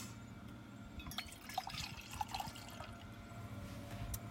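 Wine pours into a portable wine koozie container on a golf course, a faint liquid trickle with small drips over low outdoor background noise.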